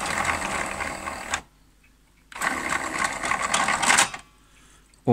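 A CD player mechanism fitted with a new 3D-printed gear whirs and buzzes in close bursts, running for over a second, pausing, then running again for nearly two seconds before stopping.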